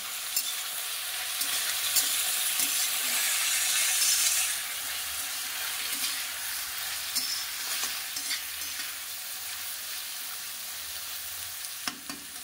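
Sweet potato fries in a pan with a steady, soft sizzle, joined by scraping stir sounds and light clinks throughout, close and alone.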